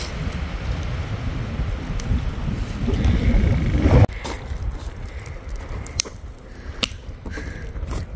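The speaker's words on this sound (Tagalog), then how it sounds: "Yung parang ang pasok ng hangin dito." Steady wind roaring across an open microphone, building in strength then dropping suddenly, with occasional soft clicks and bumps.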